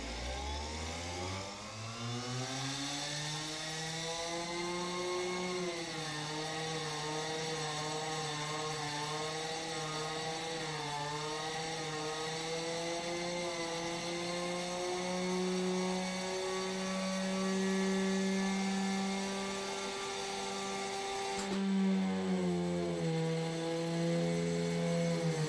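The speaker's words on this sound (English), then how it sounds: "spinning it super fast eventually made a magnet fly off, and you'll hear that in this clip" Fast-spinning homemade motor rotor whines loudly and steadily with wavering pitch until a sudden sharp crack as a magnet flies off, after which the tone drops and turns rougher.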